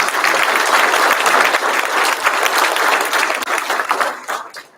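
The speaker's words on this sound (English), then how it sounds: "Can give them a round of applause" A crowd at a Hawaii Fire Department recruit graduation applauds its volleyball team, a dense, loud wash of clapping that holds steady for several seconds before thinning out at the end.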